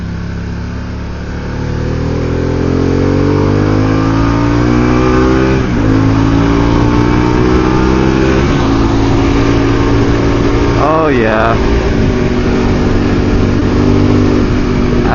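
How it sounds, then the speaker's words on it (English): A Harley-Davidson Pan America motorcycle engine hums loud and steady while riding on a parkway, its tone climbing as it accelerates and then holding at speed over constant wind rush. "actually hear the engine over the wind"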